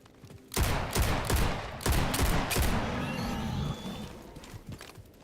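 Revolver shots in a video game, a loud rapid burst of several cracks early on followed by a rumbling, fading tail, with no talking.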